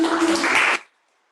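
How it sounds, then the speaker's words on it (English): An open-mic poetry night audience gives a round of applause, a dense wash of clapping that stops abruptly after under a second and leaves near silence. "one more round of applause"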